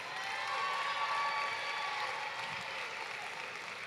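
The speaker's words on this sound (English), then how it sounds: "can we get a huge round of applause for these amazing kids" Steady, faint applause from an audience at a St. Louis charity event, a continuous wash of clapping for a group of kids that holds evenly from start to finish.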